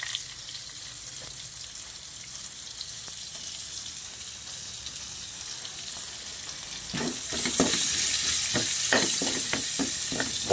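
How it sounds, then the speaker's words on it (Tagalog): Sautéing in the pan used for cooking longganisa, with a steady sizzle of frying that turns louder and busier partway through as ingredients are stirred in, giving crackling bursts and scraping stir sounds. "Tapos paggisa natin yung pinaglutuan natin ng longganisa."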